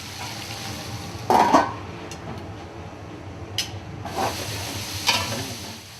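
Langoustines cooking in butter and spices in a pan give off a steady, low sizzle, broken by a few louder stirring scrapes and light clinks. No one speaks.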